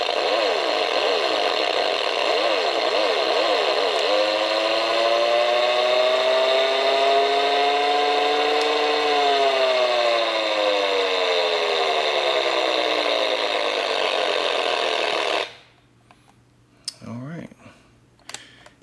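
A Kenner Red Line Racer toy car revs with a loud buzzing whine that wavers, climbs in pitch, holds high for several seconds, then cuts off abruptly, followed by a few faint clicks and handling noises.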